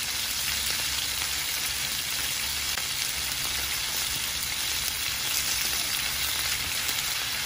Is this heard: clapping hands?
no